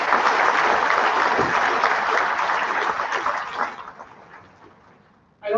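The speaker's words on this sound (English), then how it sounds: "Let's give them a big round of applause" An audience at a 2023 academic awards program applauds students with dense, loud clapping that holds steady for several seconds and then thins out and fades away, before a voice starts speaking at the very end.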